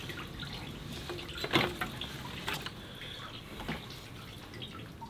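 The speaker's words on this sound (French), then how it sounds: "donc là, tranquillement ça coule." Coolant draining from the engine block of a BMW 5 Series E39 after the water pump is disconnected, a thin trickling and dripping stream with a few sharper splashes, close and fairly quiet without talk.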